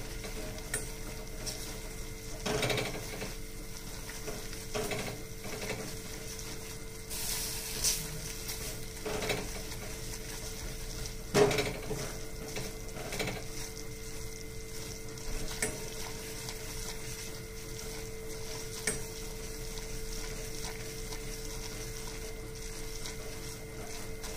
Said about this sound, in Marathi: इथे तूप सुटेपर्यंत भाजायचंय।